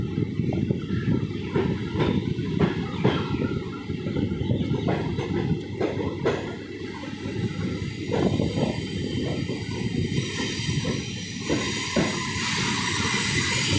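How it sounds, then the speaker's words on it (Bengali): Howrah–Belur Math local train running and curving to the right, with a steady rumbling, clattering roll and hiss, periodic wheel knocks over rail joints, and rising high-pitched squeal in the latter part; loud and continuous with no talking. "এই যে ট্রেন আবার এই দিকে, এই ডান দিকে আবার টার্ন নিচ্ছে"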